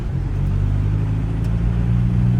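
A slammed MK4 Jetta on Audi S4 wheels, coilovers set nearly to their lowest, drives with a steady, loud low engine drone and road rumble heard from inside the cabin.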